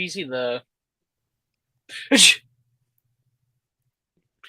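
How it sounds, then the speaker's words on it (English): One sharp, close sneeze bursts out between bits of speech, with a voice talking just before it and a brief pause around it. "That was a sneeze."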